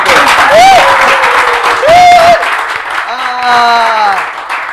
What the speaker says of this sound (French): il faut encore applaudir pour ce grand